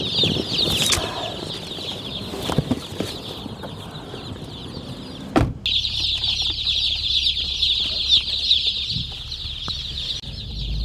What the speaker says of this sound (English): it sounds like they're all alive, which is a good sign